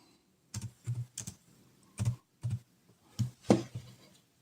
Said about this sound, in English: You can hear me typing away.